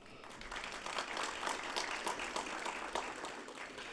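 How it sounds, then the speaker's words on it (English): Conference audience applause, a scattered patter of individual claps from a modest crowd, rising and fading unevenly at fairly low volume over a few seconds. "so round of applause for them,"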